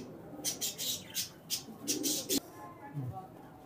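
Two large Indian Najra Kaldum pigeons coo softly, with repeated bursts of fluttering and rustling close by, and a faint voice can be heard in the background.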